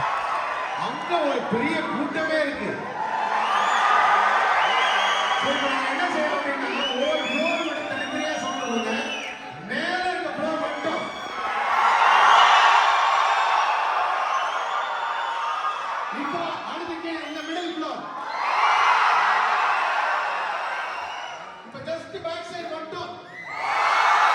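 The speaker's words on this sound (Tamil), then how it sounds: "இந்த அலறல் இருந்தே தெரிஞ்சிருக்கும் அந்த க்ரௌடு எல்லாமே எவ்வளோ எந்துவா இருந்தாங்கன்னு" A large crowd screams, whoops and cheers at a Chithirai festival celebration in Qatar, the roar rising and falling in loud waves over about twenty seconds, with voices and shouting mixed through it.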